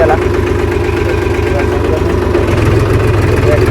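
A tractor engine runs close by, a loud, low, rhythmic diesel chug that holds steady at idle and thickens slightly near the end.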